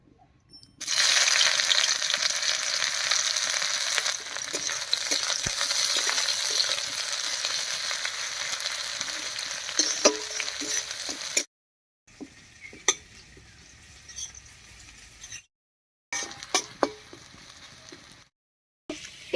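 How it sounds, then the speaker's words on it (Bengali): Chopped onion dropped into hot mustard oil in a wok hisses into a loud, steady sizzle, with occasional scrapes and clinks of stirring. The sound cuts out briefly a few times, then returns, with no voices. "তেল গরম হয়ে গেছে, তেলের মধ্যে দিয়ে দিচ্ছি একটা পেঁয়াজ কুচি।"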